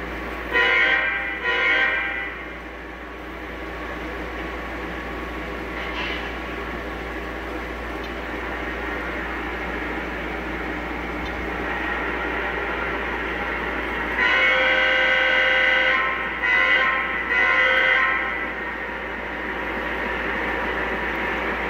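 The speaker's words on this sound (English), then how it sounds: "we're heading out with our Conrail unit" O gauge model Conrail locomotive running on a home layout with a railroad crossing, a steady rolling rumble of wheels on track with repeated horn blasts near the start and again later.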